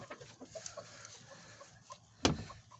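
A mother hen and her chick in a new henhouse give soft, scattered clucks and peeps close by, with one sharper, louder squawk near the end.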